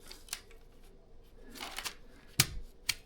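Crisp rustling and sharp crinkles of a paper inner sleeve being slid out of a used vinyl record jacket, close and quiet with a few distinct snaps near the end.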